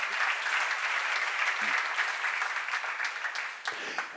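A church congregation claps together during a sermon seminar, a steady, moderately loud wash of applause that holds evenly before tapering off with a few final claps.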